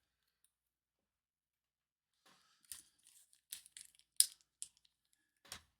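Packets of screws and magnets being cut open, giving a few scattered snips and crinkling plastic rustles that start after a short silence, close but quiet.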